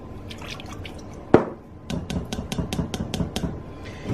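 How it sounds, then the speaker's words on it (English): Red wine vinegar is poured into a container for a poppy seed vinaigrette, giving a sharp knock and then a quick series of dripping, glugging splashes close by. "I am going to put in a half a cup of my red wine vinegar."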